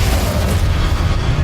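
A Confringo explosive spell blast in Hogwarts Legacy, a loud, dense boom with heavy low rumble sustained through the moment, no voices present.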